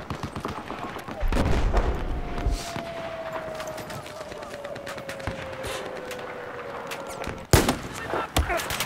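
Gunfire in Battlefield 4 on the Paracel Storm map, a fast burst of sharp shots near the start followed by sporadic cracks and a loud close shot near the end, over a busy battlefield din with a long whistling tone.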